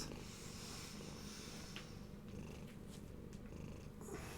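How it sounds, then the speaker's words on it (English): House cat purrs close and quietly, a soft low rumbling drone that continues steadily through the moment, with small rustles over the top. "By the way, this is my cat."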